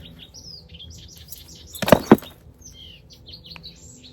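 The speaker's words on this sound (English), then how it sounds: "I don't know why the birds are so loud" Birds in a tree chirp and tweet in short high calls scattered throughout, with a sudden burst of two sharp, loud knocks or flaps in the middle.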